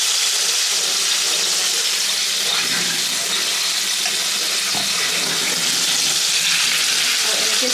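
Chicken pieces for tikka masala frying in hot oil over a high flame, giving a steady, close hiss and crackle that runs unbroken throughout with a few faint clinks.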